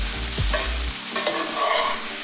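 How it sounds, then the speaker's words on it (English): Kale cooking in a pan with broth and fat, a steady close sizzle and frying hiss with stirring scrapes and a low thump early on, no talk. "The idea is to keep adding broth while the kale is cooking"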